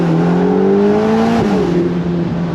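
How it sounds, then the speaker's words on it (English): A Ferrari Portofino M accelerates under a steady engine drone heard from inside the cabin, tone rising and then dipping briefly at a gear change before climbing again, loud and continuous without talk. "Little acceleration here."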